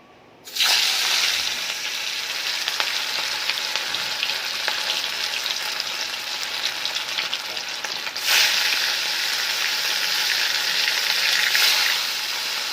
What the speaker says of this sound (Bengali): গরম হয়ে গেলে সাদা তেলটা ভালো করে গরম করে নিয়ে মাছগুলো এক এক করে ছেড়ে দেবো।